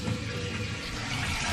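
A Fluidmaster toilet fill valve refills the tank after the water supply is turned back on, a steady rushing hiss of running water, close and continuous, with no talk.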